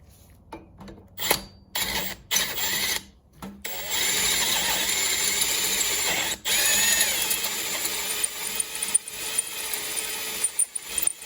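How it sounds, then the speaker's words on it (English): Intermittent bursts of a power drill whirring under load, drilling out stripped threads in a Mustang TR3650 transmission case, starting and stopping several times, with clicks and rattling between runs. "First, I'm going to drill it out, clean it out, tap it"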